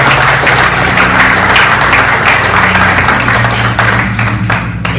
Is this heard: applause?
yes